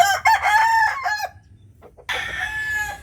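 An off-color gamefowl rooster at a poultry farm crows loudly and close by, a drawn-out call followed by a short pause, then a second crow begins.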